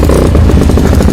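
Motorcycle engine roaring loud and close in a brief burst, with a rough, clattering idle right after starting.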